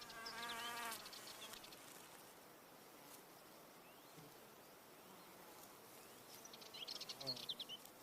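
A male wasp buzzes at an orchid while trying to mate with the flower, a quiet insect drone with brief louder passes near the start and end over soft background noise.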